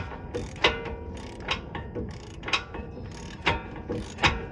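A crescent wrench works a bolt during suspension replacement on a 2008 Dodge Durango, giving repeated metallic ratcheting clicks in an even rhythm, close and clear, with no speech.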